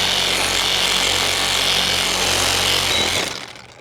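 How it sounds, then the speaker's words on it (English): A power saw cuts through PVC conduit with a loud, steady grinding buzz lasting about three seconds before stopping abruptly. "And this is PVC, so it should just cut right through pretty easily."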